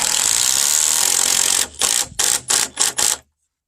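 Power driver drives Timberlok structural screws straight into 4x4 deck posts with no pre-drilling: a long, loud continuous whine, then five short bursts as the screw is seated, ending in silence.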